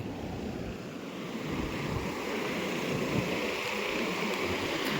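Sea waves wash onto Kothapatnam beach in a steady, close surf roar with some wind buffeting the microphone, and no voices.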